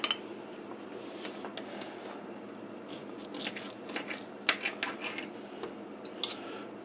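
Someone eats grilled homemade teriyaki steak, with soft chewing and sharp clicks of cutlery on a plate scattered irregularly over quiet room noise.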